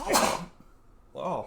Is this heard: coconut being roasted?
no